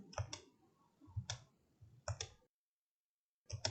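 A computer mouse clicks close-up while a logo is edited in CorelDraw 2018: sharp double clicks come in four separate bursts with short pauses between them, and no one speaks.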